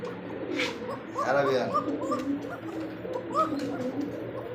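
A pair of Arabian kokka pigeons, male and female, coo in low, rolling, repeated calls close by, while people talk over them.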